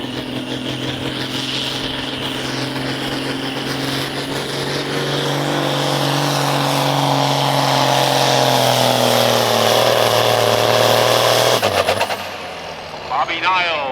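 A John Deere farm tractor in the 11,000-pound full farm class makes a tractor pull run with an 18 mph speed limit and 3,000 RPM limit, its engine a loud steady drone that climbs gradually in pitch before cutting off abruptly near the end.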